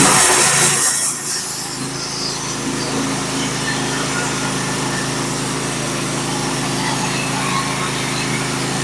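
A band sawmill slices steadily through a white oak log with a Stellicut blade, giving a continuous loud mechanical whine and motor drone, steady and monotone throughout after a brief louder start.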